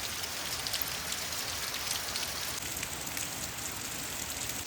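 Steady rain falls on a village in Uttarakhand, a dense, even hiss of drops on surfaces that continues without a break and without any voices.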